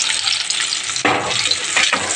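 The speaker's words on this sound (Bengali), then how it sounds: "জিরে তেল কড়াই বসিয়ে জিরে ফোড়ন দিয়ে পেঁয়াজটা দিয়ে দিলাম" Onion sizzles loudly as it fries close up in cumin-tempered oil in a wok. A hot, continuous crackle rises in fresh bursts as the pieces are stirred.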